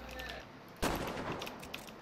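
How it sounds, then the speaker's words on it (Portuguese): A single loud sniper shot cracks out in a video game and rings into a long, echoing tail, with faint game sounds before and after. "Tem gente tirando aqui de sniper."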